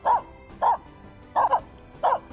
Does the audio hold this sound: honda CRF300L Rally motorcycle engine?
no